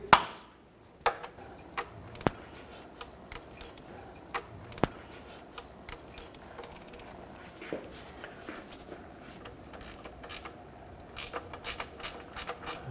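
Wrench breaking free and unthreading the oil drain plug on a 1997–2003 Ford F-150, heard as sharp isolated metallic clicks and ratcheting taps spread out over quiet background, close and fairly faint.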